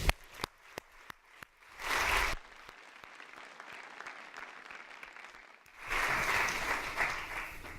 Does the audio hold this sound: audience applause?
yes